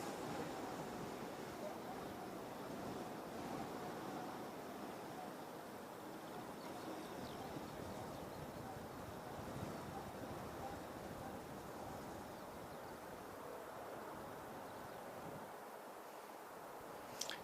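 Strong wind sweeps across Christchurch Airport in a steady, fairly faint broadband roar that buffets the microphone without a break.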